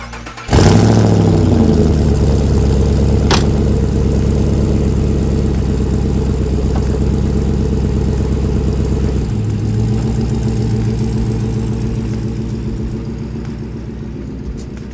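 A Toyota FJ40 Land Cruiser with an LS3 V8 starts up loud and close, then settles into a deep, steady idle whose pitch drops slightly partway through before the rumble slowly fades a little.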